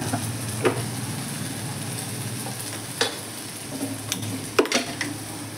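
Tomatoes and green chili frying with chana masala in a pan for chhole, a low steady sizzle under a faint hum, broken by a few sharp spoon taps against the pot, close by with no talking.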